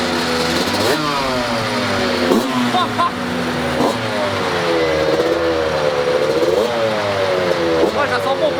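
A tuned Yamaha YZ 125 two-stroke motorcycle on a dyno revs repeatedly, its engine pitch sweeping up and falling back in loud, close bursts of several seconds each.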